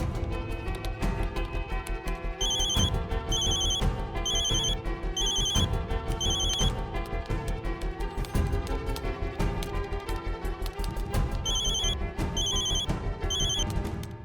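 Telephone ringing in a tense police drama scene, with repeated bursts of bright bell-like rings over a loud, steady background music bed throughout.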